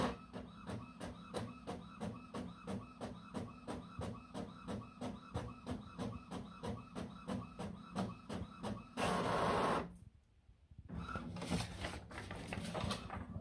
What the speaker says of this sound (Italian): Qui sta stampando un foglio